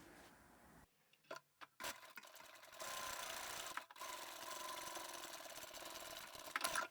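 A domestic sewing machine stitches a fabric basket, opening with a few short bursts and then settling into a steady, continuous whirring run, close up and moderately loud with no talking.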